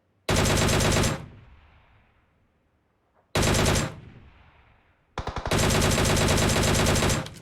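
Gunfire in PUBG Mobile as rival teams shoot at each other: three loud, sustained automatic bursts, each cut off sharply, with quieter gaps between them.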